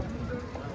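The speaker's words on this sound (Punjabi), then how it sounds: "ਘੋੜਾ" Horse hooves clip-clop at an outdoor horse market in Talwandi Sabo, a short burst of steps heard under people talking and general crowd noise.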